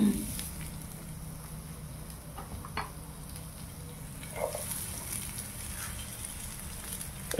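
Chopped onion and black cumin fry in a pan for macher jhal, giving a soft, steady sizzle with light stirring clinks. It stays fairly quiet throughout and ends with a brief louder clatter.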